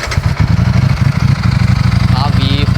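A KTM RC 390 engine with stock exhaust idles loudly with a steady throbbing beat up close, a voice briefly audible over it.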